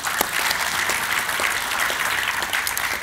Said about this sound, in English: We're still going to clap for that.